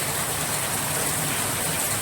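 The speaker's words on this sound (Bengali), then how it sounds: "কার কার এরকম বৃষ্টির আওয়াজ শুনতে ভালো লাগে" Heavy rain pours down outside a window, filling a courtyard, as a dense, even hiss with no pauses and no voices.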